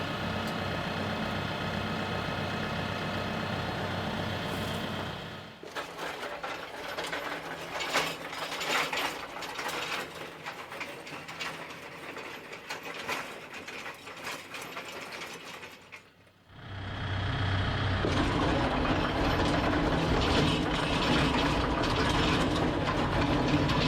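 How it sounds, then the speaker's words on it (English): Land plane rippers dragging through a gravel driveway to break up a pothole, giving a steady grinding, clattering scrape with a rough mechanical rattle that pauses midway and then resumes. "So I keep lowering the rippers down more and more, trying to break up that pothole."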